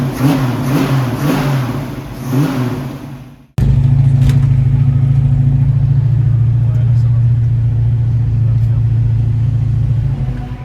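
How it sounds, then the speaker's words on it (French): Formula 1 cars lapping Circuit Paul Ricard, heard first as rising and falling engine passes, then as a loud, sustained high-revving roar that holds steady, with speech mixed in. "Là, les Formule 1 qui tournent"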